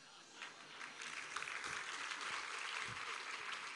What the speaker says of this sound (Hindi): अब ताली बजाने की क्या आवश्यकता है?